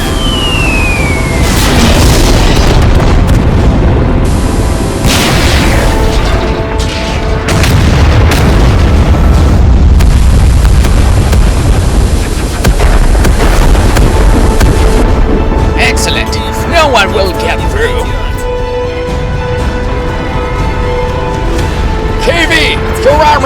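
Cartoon tanks fire on a tower, a barrage of loud booming blasts and bursting explosions over dramatic music, with voices shouting amid the chaos.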